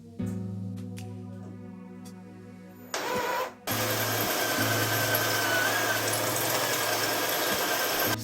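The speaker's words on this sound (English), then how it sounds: "I'm gonna re-drill these holes and hopefully get this fender off finally" A power drill re-drills stripped screw holes on a car fender, whining steadily at close range, cutting out briefly, then revving again louder and harsher for several seconds.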